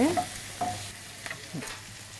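Spice paste with ground roasted coriander, mustard paste and a little water sizzles softly in a pan while a spoon scrapes and stirs it in a few short, quiet strokes.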